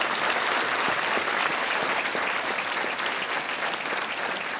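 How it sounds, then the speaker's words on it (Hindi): Studio audience applause on the Hindi TV quiz show Kaun Banega Crorepati, loud, dense and sustained clapping that holds at an even level throughout. "तालियों के साथ हम इनका स्वागत करते हैं"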